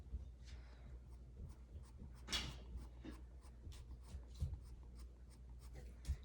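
A pencil hatches rows of lines on paper in quick, repeated scratchy strokes, close and quiet, with a few slightly harder strokes standing out along the way.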